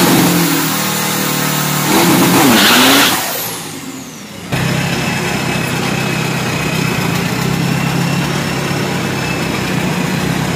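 A Chevrolet drag car at a drag race run, its engine revving hard and loud up close, dipping briefly as the car shifts or pulls away, then holding a steady roar with a higher whine riding on top.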